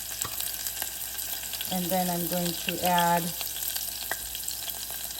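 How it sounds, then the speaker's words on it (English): Cumin seeds and chopped green chilies sizzle in hot oil, a soft steady frying hiss under a voice, with a brief louder burst of sputtering as the chilies go in. "Once the cumin seeds sizzle, I'm gonna go ahead and add my chopped green chilies."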